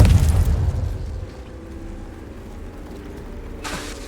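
In Hogwarts Legacy, a Confringo spell explodes as a close, heavy boom that fades into a low rumbling tail. A sharper burst follows near the end.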